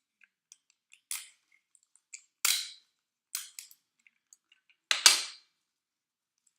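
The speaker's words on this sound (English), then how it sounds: "we are going to take a piece of tape" Short bursts of tape being pulled and torn from a roll while making a paper loop, a few crisp rasping rips spaced over several seconds with faint clicks between, close and alone.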